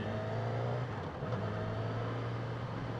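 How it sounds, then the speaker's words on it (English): A 2016 Yamaha R6 sport motorcycle engine revs continuously, a steady droning roar with rising pitch, close and sustained without pause. "This just keeps on revving and revving and revving, and it's a freaking beast"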